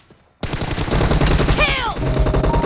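Loud, rapid automatic gunfire in the video game PUBG Mobile starts suddenly after a quiet moment and continues as a dense burst, with a short whooshing game effect mixed in, no talking.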